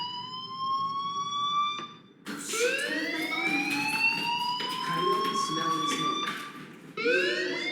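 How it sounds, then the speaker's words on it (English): Fire alarm in the video game Life is Strange rings as a steady, loud electronic tone that keeps rising and repeating, with a brief break, while a person talks over it. "Hey, do you hear that fire alarm?"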